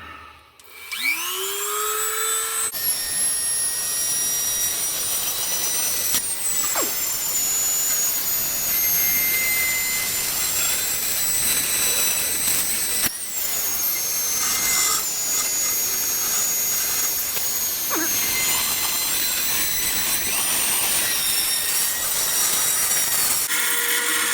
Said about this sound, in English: We got a battery in the drill.